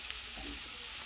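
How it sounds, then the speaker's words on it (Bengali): Flour pitha cakes fry in a pan with a steady, close hiss of hot oil that stays even across the short moment. "তো দেখো বন্ধুরা, পিঠেটা আমি ভাজতেছি।"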